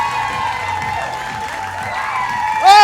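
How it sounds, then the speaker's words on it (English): A comedy-show audience claps and cheers for a comedian being welcomed to the stage, a steady wash of applause under tonal walk-on music, with a voice breaking in near the end. "Ladies and gentlemen, a big round of applause for Stephen Mead."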